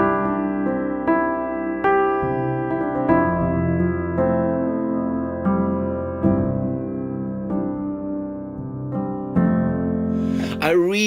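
Spindle, a free upright piano plugin from Orchestral Tools, plays a slow sequence of chords and melody notes that ring and overlap, then a voice cuts in at the end.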